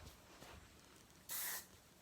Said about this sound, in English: So I kind of give it a little spray in there.